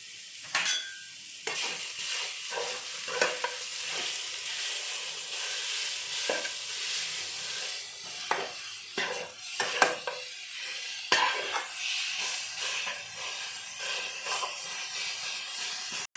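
Jaggery melting in a hot pan for Odia atta kakara pitha, with a steady sizzling hiss and repeated scraping stir strokes, close and continuous, no talk.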